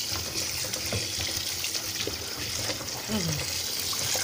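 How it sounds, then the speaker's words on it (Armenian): Tap water runs steadily over eggplants as they are rinsed several times in preparation for eggplant jam, a continuous close splashing wash with no clear breaks. "որպեսզի գիրը ամբողջությամբ դուրս գա, մի քանի անգամ լավ լվացնում ենք"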